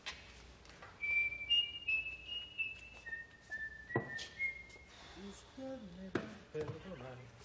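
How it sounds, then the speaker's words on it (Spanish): A person whistles a tune in a series of sustained, wavering high notes that fall across several pitches, fairly close and clear, followed by lower hummed notes with some background noise. "ahora que estás aquí silbando, canturreando"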